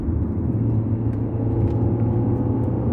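A Rover 400 car engine revs freely and steadily, a continuous loud low rumble and whir held close throughout with no voices.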